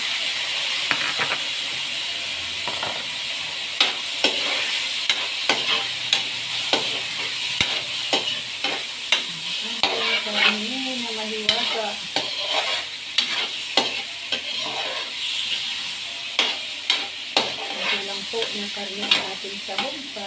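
Meat fries in a pan with a steady hiss and sizzle while a utensil stirs it, making frequent small clinks and scrapes close by.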